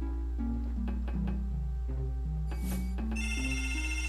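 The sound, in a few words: phone ringing in the video game Blasto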